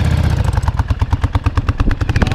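A 1983 Yamaha Virago motorcycle with its exhaust baffles removed idles loud and close, its V-twin engine thumping in a rapid, slightly uneven pulse of deep, punchy exhaust beats.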